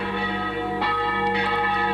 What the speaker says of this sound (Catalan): Les campanes ens criden a la festa religiosa.